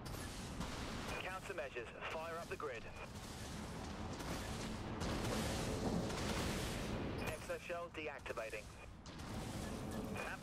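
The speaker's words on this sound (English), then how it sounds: "Okay, missiles are out." Missile launches from a warship in the sci-fi naval combat game Dreadnought, heard as dense, continuous booming and rumbling fire with whistling streaks, loud and sustained, under steady talk from a player.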